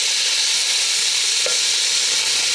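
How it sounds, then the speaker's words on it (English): Sliced bacon frying in a pan for Lowcountry Hoppin' John, a loud continuous close sizzle with a light scrape as the pieces are broken up and stirred, no voices. "I'm just going to break this bacon up"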